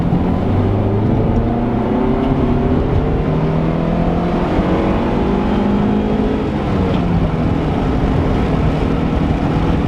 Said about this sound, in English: I really want to see how the VTEC engages.